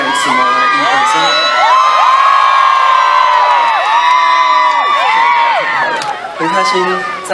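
A concert crowd at an outdoor New Year's Eve countdown show in Taipei screams and cheers loudly and continuously, a dense wall of high shrieks and whoops that briefly dips before surging again.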